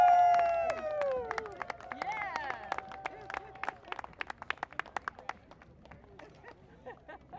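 Crowd at the outdoor opening of a kayak launch at Neabsco Regional Park, Prince William County, cheering and clapping for Delegate David Brickley, with whoops and whistles early, then a dense run of claps trailing off into scattered applause.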